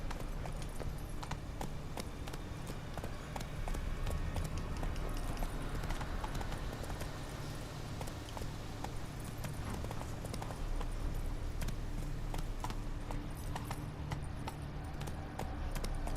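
Horse hooves clip-clop steadily and continuously in The Witcher 3 as the mount rides along, a close rhythmic beat under layered game ambience and music.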